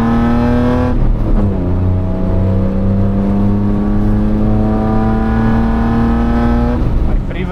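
Japanese Z sports car with an aftermarket exhaust, engine held at a loud steady high rev, briefly dipping then climbing back, close and sustained under a faint voice.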